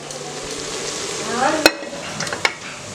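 Onions frying in a pan, stirred with a utensil: steady close sizzle with scraping strokes and a couple of sharp clinks near the end, no talk.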